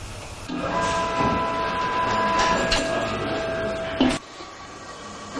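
A QATM SAPHIR X-Change grinding and polishing robot starts back up, giving a steady mechanical whirr with a faint tonal hum that lasts a few seconds and then stops abruptly.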